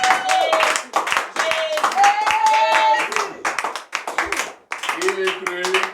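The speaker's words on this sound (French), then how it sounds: "On acclame très fort le Seigneur de l'Église." Rhythmic clapping and cheering from a church congregation at a New Year's celebration night, sustained with voices singing and shouting over it.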